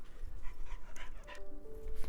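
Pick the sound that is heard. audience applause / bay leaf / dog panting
dog panting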